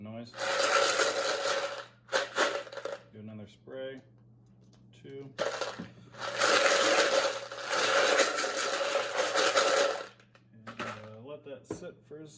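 Once-fired 5.56 brass cartridge cases coated with lube and alcohol are shaken in a container, producing bursts of dense metallic jingling and rattling, two long bouts separated by quieter gaps where someone talks.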